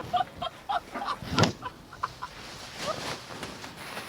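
Chickens at a poultry shop cluck in short, close bursts, busiest at the start and then thinning into quieter scattered calls over a low background hum.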